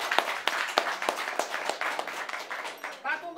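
Applause at a Haitian Vodou Kanzo and baptism ceremony, a run of sharp, irregular hand claps from a small group, fairly close and steady.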